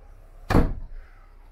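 A mirrored medicine cabinet door in the bathroom of a 2021 Grand Design Reflection 150 Series 240RL RV closes once with a short, close, solid thump, leaving a quiet background.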